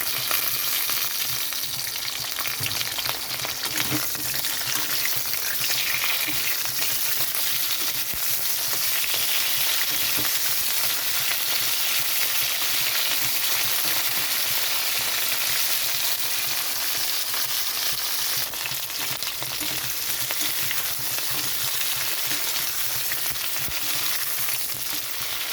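Potatoes and beans fry in a pan for a fish curry, giving a steady, dense sizzle with crackling spatter that runs unbroken and fairly loud from start to finish.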